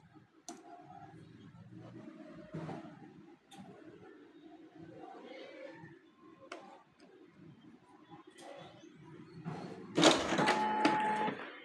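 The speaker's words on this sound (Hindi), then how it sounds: "देखिए इसने डायरेक्ट प्रिंट निकाल दिया" A Xerox 5855 copier runs a print job, producing soft mechanical clicks, whirs and feed noises at low level, ending in a louder burst of paper-handling motion.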